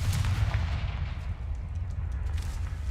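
The Confringo blast spell in the video game Hogwarts Legacy goes off as a deep booming, rumbling blast, loud and low, rolling on for a few seconds.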